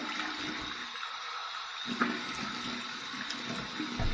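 Warm water splashed and rinsed over a freshly shaved face at a running sink, a close, loud rush of flowing water with a few splashes, no talking.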